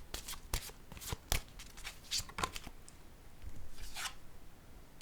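Pink oracle cards are shuffled and drawn, giving sharp, close riffling snaps and papery slides in quick irregular bursts, then a softer rubbing shuffle at the end.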